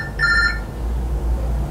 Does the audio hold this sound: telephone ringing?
yes